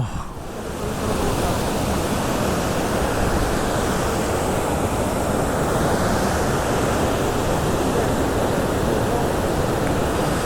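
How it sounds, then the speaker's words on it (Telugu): Rushing water roars continuously, a loud, even wash of noise heard close by from the top of Kumbe waterfall near Pune, Maharashtra, with no other sounds standing out. "అక్కడ ఒక వాటర్ ఫాల్, ఇక్కడ నుంచి మనం ఎగ్జాక్ట్గా వాటర్ ఫాల్ పైన ఉన్నాం"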